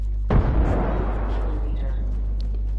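A frag grenade in Apex Legends goes off with one loud close boom that decays into a rumbling tail over a steady low game hum.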